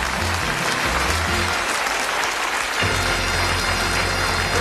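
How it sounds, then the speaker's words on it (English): A game show studio audience on Bullseye (UK, 1994) applauds loudly and steadily for the full stretch, a dense wash of clapping with a brief dip and then a surge midway. "Give them a nice round of applause."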